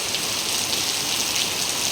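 Heavy rain pours down in a dense, even hiss that stays constant from start to finish, with no voices.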